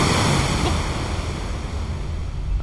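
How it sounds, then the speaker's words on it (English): Steady rushing water ambience in Metro: Last Light, a continuous broadband wash like surf or flowing water heard alone, fairly loud and even throughout. "Water."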